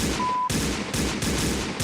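Gunfire in a western cowboy video game: several sharp, loud shots in quick succession, each ending in a brief decaying tail, with no talking.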